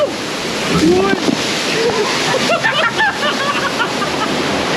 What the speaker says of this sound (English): Yeah, there's a waterfall.